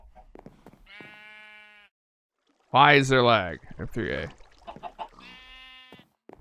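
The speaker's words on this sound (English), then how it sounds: "Motherfucking goat." Goat bleats in a video game, a few short harmonic cries at the start and end, with a loud burst in the middle; someone talks over part of it.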